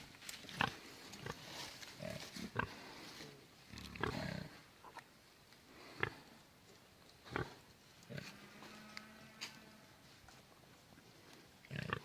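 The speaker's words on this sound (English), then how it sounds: "There's a couple babies over here with one of the mamas hanging out in the woods, learning how to be a pig." Piglets and a sow root about in thinned woodland, their short grunts and snuffles coming in scattered bursts over a quiet outdoor background at moderate distance.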